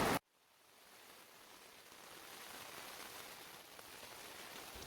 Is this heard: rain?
yes